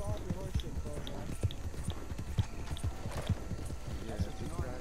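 Horse galloping in the Red Dead video game: rapid, rhythmic clip-clop hoofbeats with an occasional whinny, steady and close under continuous talk from players.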